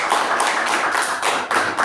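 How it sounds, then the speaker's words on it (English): Audience at a Toastmasters club meeting giving a round of applause, a dense burst of hand clapping that carries on steadily and fairly close, without voices. "Let's give a big round of applause to Toastmaster Shuba for that."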